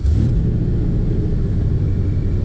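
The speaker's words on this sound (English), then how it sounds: "being a fuel-injected engine, it fires up every time." A 1967 Chevrolet Corvette restomod with a fuel-injected L98 engine and side pipes rumbles loudly after starting, a steady deep idle close by with no talking.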